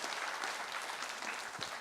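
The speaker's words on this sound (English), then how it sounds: "Give him one more round of applause" Sustained clapping from a large crowd at a conference keynote fills the hall evenly: a broad wash of many hands that neither builds nor fades, without speech over it.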